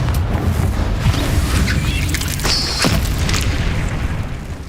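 Confringo explosive spell cast in the Hogwarts Legacy video game: a deep, booming blast over continuous loud rumbling combat noise, with a brief whooshing streak partway through.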